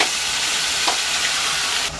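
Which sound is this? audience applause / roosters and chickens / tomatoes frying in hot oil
tomatoes frying in hot oil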